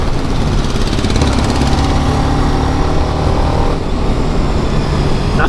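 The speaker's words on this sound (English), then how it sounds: "Look at the way this bike handles." A BMW G310RR motorcycle being ridden, its engine droning steadily and loud throughout with wind rush, no talking.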